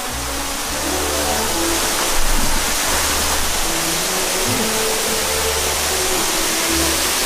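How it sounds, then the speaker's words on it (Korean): A waterfall pours down in a desert canyon near the Dead Sea in Israel, a loud, constant rushing roar of falling water that stays steady throughout, close by and with no voices. "시원하게 떨어지는 폭포수."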